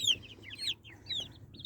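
Several chickens cluck softly in a backyard coop kept alongside ducks, with short, scattered calls over a low background hum, fairly faint and close by.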